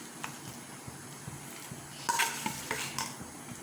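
Mashed potato and onion masala stirred in a pan for dosa filling, giving soft scraping strokes with faint sizzling, a brief louder burst of spoon-on-pan clatter near the end.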